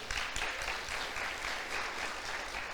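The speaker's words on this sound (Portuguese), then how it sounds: "Aplauda o Senhor mais uma vez" Church congregation applauding the Lord during a sermon, a dense continuous wash of many hands clapping at moderate loudness.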